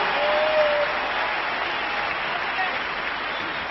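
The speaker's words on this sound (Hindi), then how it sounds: "आप जोरदार तालियों से इनको स्वागत कीजिए।" An audience at a large celebration event in Kolkata claps steadily and loudly to welcome a couple onto the stage, a dense unbroken wash of applause with a faint murmur of crowd underneath.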